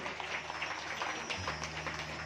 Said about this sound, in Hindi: एक बार अपने बच्चों के लिए एक बार जोरदार ताली सभी मिलकर बजाएंगे